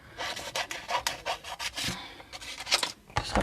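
Blades cut through cardstock for card making, a rapid series of close, dry rasping strokes in irregular bursts, with no talking.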